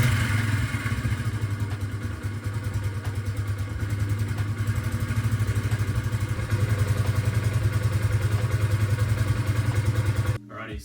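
A Yamaha SR250 single-cylinder motorcycle engine runs steadily up close with a rhythmic, slightly clattery idle for about ten seconds before cutting off abruptly.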